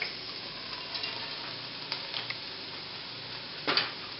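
Chopped leeks hit a pan of translucent sautéed onions and sizzle steadily at low volume, with a few light taps and stirring clatters scattered through.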